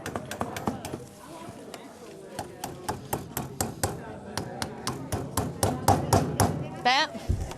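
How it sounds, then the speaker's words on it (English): Pins hammered tightly into a living boxwood wreath, a fast series of sharp close taps and thuds in an uneven rhythm over several seconds, ending with a brief rustle. "And you want to hammer those in very tightly."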